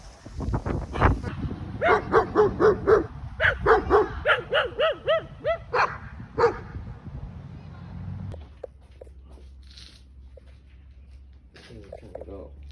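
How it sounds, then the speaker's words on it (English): Several dogs bark in quick repeated bursts for several seconds, close and loud, with yips among them, then the barking stops and a quieter stretch with a few faint sounds follows. "Dogs."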